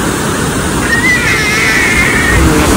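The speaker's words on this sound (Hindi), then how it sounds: "कितनी ज़्यादा आवाज है पानी की" Loud, steady rushing water fills the scene, a dense broadband roar with no breaks, close and continuous like a torrent or waterfall.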